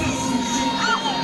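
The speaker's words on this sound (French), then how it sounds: "nous pouvons aussi applaudir." Schoolchildren at a primary school science day shout and cheer as a group, a brief, loud, steady burst of many young voices with a rising whoop near the end.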